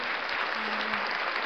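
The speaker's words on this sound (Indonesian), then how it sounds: "Mari tepuk tangan." A short, even burst of audience applause sounds during a campus profile video competition winners' event. The clapping is full and continuous throughout.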